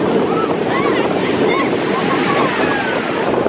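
Sea waves breaking on the shore at Vũng Áng and splashing against a camera, a loud, continuous wash of surf mixed with heavy wind buffeting close to the microphone.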